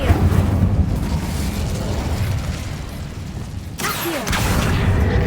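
Incendio fire spell from Hogwarts Legacy: a steady roaring, crackling rush of flame fills the clip, briefly dropping away before a sharp burst and a renewed, loud blaze.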